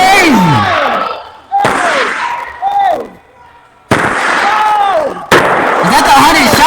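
A 100-shot fireworks cake going off indoors in a mansion, with rapid repeated bursts, whistles and crackles that are very loud and close. A brief lull comes before more volleys, and excited voices shout over the blasts.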